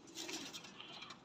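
Rampuri pigeons cooing, a soft continuous murmur of calls held close by and steady in level, with no talk over them.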